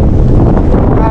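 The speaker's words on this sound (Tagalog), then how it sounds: "At ang lakas ng hangin." Strong wind gusts across the microphone at a campsite in Bangui, Ilocos Norte, a loud continuous roaring buffet filling the whole short moment.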